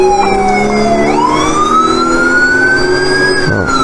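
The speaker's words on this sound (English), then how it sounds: "time to turn the sirens back on for one" A police car siren in the video game GTA 5 wails loud and close, its tone sliding upward in a long steady rise with engine noise underneath and no talk over it.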